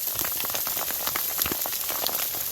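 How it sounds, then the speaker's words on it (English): Dense, steady rain with pea-sized hail patters and splashes on a surface in the Sierra Nevada mountains, close and constant throughout, with no talking. "But gotta run, rain's coming in."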